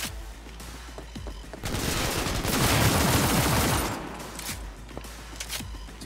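Pistol gunshots in Cyberpunk 2077: sharp, close reports scattered around a dense, loud burst of rapid gunfire in the middle.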